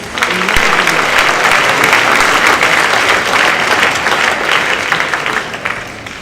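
Loud, sustained applause from a high school academic excellence awards audience, dense clapping that holds steady before easing off slightly at the end.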